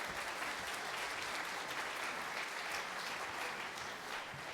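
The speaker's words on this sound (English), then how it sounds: "Another round of applause for Steph and Nathan and their leadership of our stewardship this year" A church congregation applauds during a Sunday service, a steady wash of many hands clapping that holds evenly for several seconds with no voices over it.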